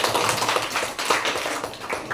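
A classroom of students claps together, a dense, close burst of hand claps with a quick uneven rhythm filling the short moment without speech.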